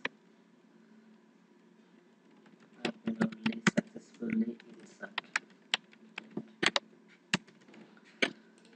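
Code is typed on a computer keyboard, a quiet start followed by uneven bursts of sharp, close key clicks with brief pauses between them, under an almost silent background, while a voice talks softly at times.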